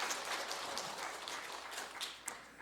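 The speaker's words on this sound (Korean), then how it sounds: "우리 저 이정희 권사님한테도 박수 한번 해주실래요?" Congregation applause during a Sunday service at a Methodist church, a steady wash of many hands clapping, moderately loud and fairly close, with a few sharper individual claps standing out toward the end.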